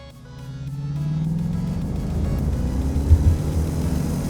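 A 2015 Ford Mustang GT's engine gives a steady, fairly loud low rumble that builds gently through the stretch, with a rising tone suggesting acceleration and a couple of brief bumps near the end.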